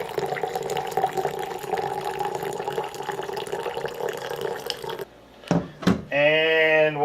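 Water runs into a 14-ounce RTIC insulated cup during a mug comparison, a steady filling stream with a rising pitch for about five seconds, then a few clinks and handling sounds as it stops.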